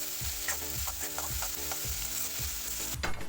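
Chopped cabbage sizzles and fries in a hot pan, a steady close crackle with repeated soft scrapes and clacks as it is stirred, no voices.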